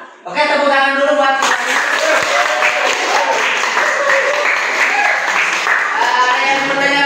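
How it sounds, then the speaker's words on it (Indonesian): Classroom audience applauding a presenting group after a religious education session, with dense clapping starting abruptly and continuing steadily, while a voice speaks over it near the start. "Tepuk tangan."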